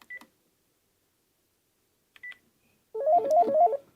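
Panasonic TGM4 series cordless phone sounding intercom call tones: two brief electronic beeps spaced apart, then a louder burst of rapid warbling tones near the end, with no talking.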